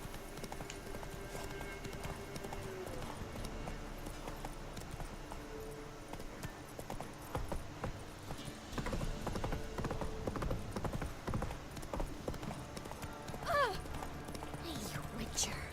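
Roach, the horse in The Witcher 3, gallops with steady rapid hoofbeats. The clip-clop runs throughout under game sounds, with a brief whinny-like call near the end.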